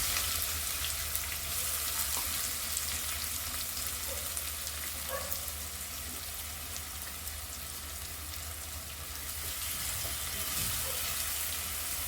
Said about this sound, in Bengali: এখন এই প্যানের ভিতরেই আমি দিয়ে দিচ্ছি কুচি করে রাখা পেঁয়াজ।